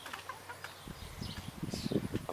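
Backyard urban-farm chickens cluck and murmur in a rapid, rising cluster of short calls near the end, close and fairly soft, with no talking.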